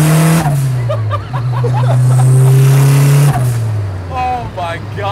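A turbocharged KA24-powered Datsun 510 wagon accelerates hard through the gears, engine revs climbing loudly then dropping at each shift, heard from inside the car with occupants talking and exclaiming.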